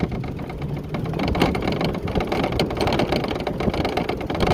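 An e-bike's pedal-assist motor pushing the bike uphill, a steady close whirring drone with a rough, buzzing texture that holds throughout without breaks.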